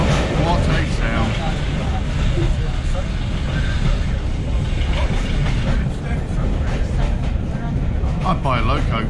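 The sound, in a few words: Class 33 Crompton diesel locomotive engine running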